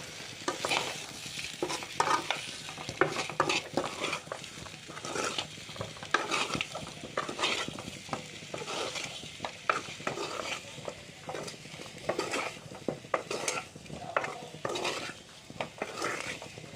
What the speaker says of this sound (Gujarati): ગરમ મસાલો, મરચું, હવે હલાવી મિક્સ કરી લઈશું